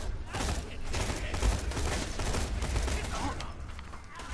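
Seraphim gun firing in Borderlands 2, a steady stream of rapid game gunfire filling the whole span with a dense, continuous rattle and faint voice underneath.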